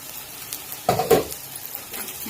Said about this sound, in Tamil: இந்த ஸ்டேஜில் முருங்கைக்காய் மட்டும் போட்டுக்கலாம்.